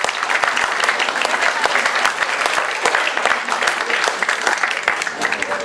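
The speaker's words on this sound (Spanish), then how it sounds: "Antonio, vamos a darle su aplauso." Steady, dense applause from an audience fills the whole stretch, many hands clapping evenly without pause.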